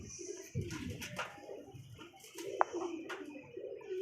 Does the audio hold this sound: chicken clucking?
no